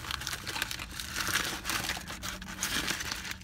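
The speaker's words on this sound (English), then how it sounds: "I'm gonna go ahead and do a little unwrapping here to see what we got first." Paper and plastic wrapping from a Taco Bell Quesalupa being unwrapped, with steady, close crinkling and crumpling that carries on through the whole moment.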